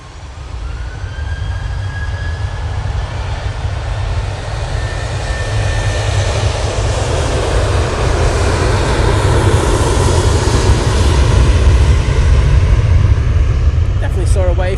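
TUI airliner departing Manchester Airport for Malaga, a broad steady jet engine roar building gradually and holding loud throughout, with people talking over it.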